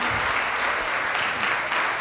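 Steady, dense applause from a church congregation, continuous clapping throughout, loud and enveloping.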